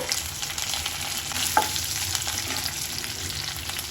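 Steady oil sizzle and crackle as dried chilies and curry leaves fry in a pan of hot oil, continuous and fairly close, with a brief sharper pop midway; no voices.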